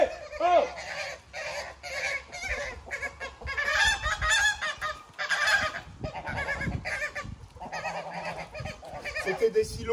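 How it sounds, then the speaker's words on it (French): A flock of geese honks noisily on a botanical farm in Brittany, loud overlapping calls near and in bursts, with some farmyard fowl mixed in. "Taisez-vous les oies."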